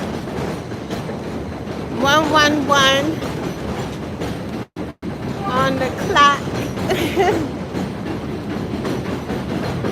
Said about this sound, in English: That's the 6th train up there.